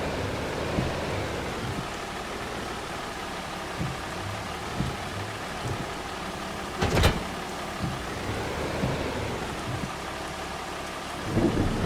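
Steady rain hisses over a farm in the video game Farming Simulator 25, with a sharp thunderclap midway and low rumbles rolling in and out, no voices over it.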